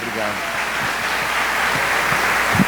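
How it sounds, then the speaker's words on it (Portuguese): A church congregation applauding during a service, a steady dense patter of many hands clapping throughout, with a voice speaking faintly beneath. "Vamos dar um aplauso ao Senhor pela vida dele?"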